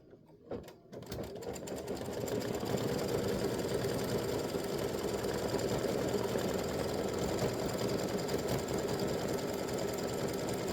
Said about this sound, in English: I believe it's just a straight satin stitch.